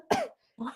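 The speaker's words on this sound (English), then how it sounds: "Sorry, I'm having a coughing fit right now." A person coughs twice in quick succession, a sharp loud burst followed by a shorter second cough after a brief pause, close to the listener.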